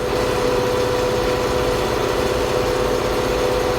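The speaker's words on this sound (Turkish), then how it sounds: "Traktörün içine biraz fazla ses geliyor." A tractor engine idling, heard from inside the cab, gives a loud, steady, droning rumble with a constant pulsing throb and a fixed mid-pitched hum, alone with no speech.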